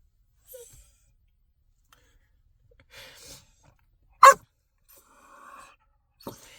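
A dog, a lively, chaotic pet, gives a single sharp bark that stands out in an otherwise quiet room, with a few faint rustles and soft whimpery sounds before and after it.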